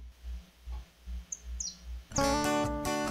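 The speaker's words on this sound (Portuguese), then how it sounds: "vem esse passarinho maravilhoso, um canarinho ali na janela" A canary at a window gives a few faint, high chirps in a quiet room. A loud, sustained tonal sound then swells in and covers it.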